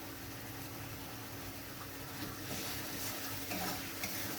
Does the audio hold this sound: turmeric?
yes